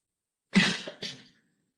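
A single close, sharp cough with a brief second burst right after, then silence.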